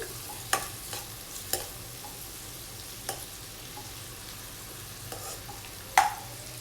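Finely chopped garlic and onion fry in a pan for white sauce pasta, a constant close sizzle broken by several sharp scrapes and clinks of a spatula mixing, with no talk.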